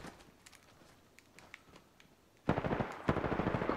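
Automatic weapon fire in the Apex Legends video game: quiet scattered shots at first, then a sudden loud burst of rapid rattling gunfire that continues to the end.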